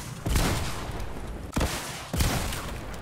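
Three loud, close gunshots crack out in a first-person video game, spaced about a second apart, each followed by a booming tail over steady background rumble.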